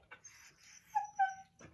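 A dog whimpers and whines in short, high, nasal cries, a few faint whines followed by two clearer rising whimpers, close by in a quiet setting.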